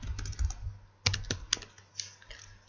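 Fingers tap a computer keyboard in a few quiet, uneven bursts of clicks with short pauses between them, close and alone without speech.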